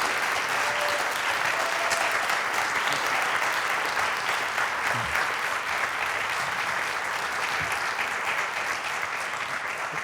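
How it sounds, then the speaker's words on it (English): Sustained applause from a large audience, steady and dense clapping that fills the whole stretch without letting up. "so that he can receive that round of applause"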